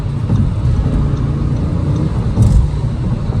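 A 2022 Audi RS3 with a new AWE Tuning exhaust, a steady low rumbling drone heard from inside while driving, loud and continuous with a slight swell near the end.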